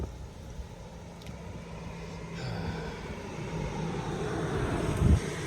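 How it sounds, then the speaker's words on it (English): A truck approaches on a road at Iron Mountain Gap along the Appalachian Trail. Its engine rumble starts distant and grows steadily louder and nearer over a few seconds, with no talking. "There's a truck coming, so I might be quiet for a moment here."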